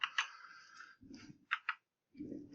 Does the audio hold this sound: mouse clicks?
yes